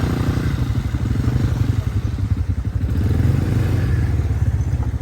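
An ATV being ridden, its small engine putting out a rapid chugging pulse with rattles and clatter, near and steady for the whole stretch.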